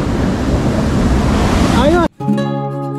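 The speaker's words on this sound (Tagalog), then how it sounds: "Yung tayo ngayon sa Kipot Falls, ang lakas ng agos ng tubig." Strong flowing water at Kipot Falls roars as a loud, steady wash with wind buffeting the microphone, then cuts briefly before a different tonal sound takes over.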